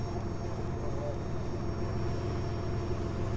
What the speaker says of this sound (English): Engine number 1 is running.